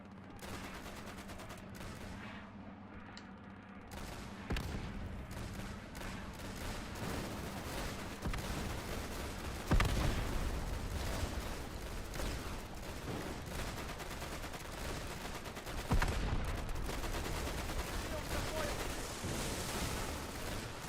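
Sustained gunfire in the video game Easy Red 2, dense overlapping rifle and machine-gun bursts with heavy booming reports, continuous and loud throughout with no pauses.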